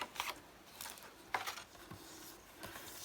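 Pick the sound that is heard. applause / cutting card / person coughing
cutting card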